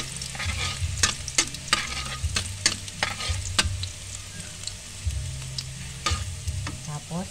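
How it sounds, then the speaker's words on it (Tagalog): Garlic sautés in a hot pan with steady frying sizzle, broken by repeated sharp clinks and scrapes of a spatula stirring against the metal, for a fried vegetable lumpia dish. "magigisa na tayo ng bawang muna natin"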